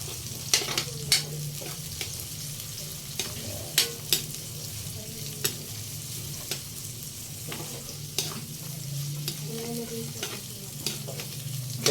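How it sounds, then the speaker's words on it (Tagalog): Chopped onions sautéing in a hot pan for pancit, with a steady close sizzle and frequent sharp clicks and scrapes of a utensil stirring, no voices. "Paluto ang sibuyas"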